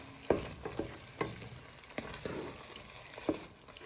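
Cream is stirred into a sizzling prawn sauce in a pan over lowered heat, with a soft frying hiss underneath and several distinct scraping stir strokes spaced a moment or so apart.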